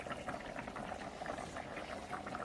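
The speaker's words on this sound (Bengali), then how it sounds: "মাছের ঝোলটা ফুটে উঠেছে" Fish curry with koi and shingi fish boiling in a pan, a steady close bubbling and simmering with a constant level and no pauses or talk.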